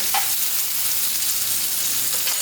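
Blood pudding sizzles steadily in a hot pan as it gets a quick stir, a loud continuous frying hiss close by with a faint scrape of the utensil and no voices.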